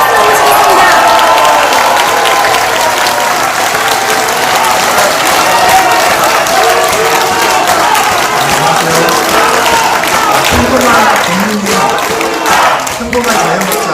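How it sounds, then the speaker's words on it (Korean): A large crowd at a political rally applauds loudly to welcome a speaker to the stage, sustained dense clapping mixed with some cheers, while voices talk over it toward the end. "큰 박수로 모시겠습니다."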